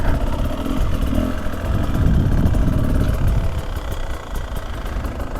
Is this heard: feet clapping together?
no